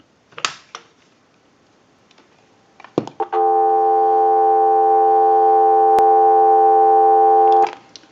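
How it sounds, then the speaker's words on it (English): A payphone dial tone hums steadily and loudly for about four seconds, preceded by a few clicks and handling knocks from the handset and ending with another click. "we want to go ahead and give you some dial tone"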